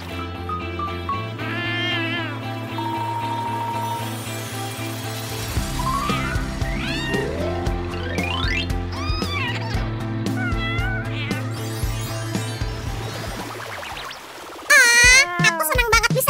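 A kitten meows repeatedly in a series of high, wavering cries, close and clear, ending with a louder burst.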